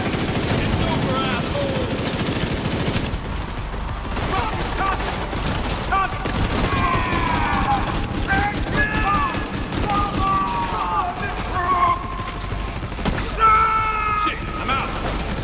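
Rapid bursts of automatic gunfire and scattered booms from a firefight in Tom Clancy's The Division 2 continue over shouted character voices and other game effects throughout.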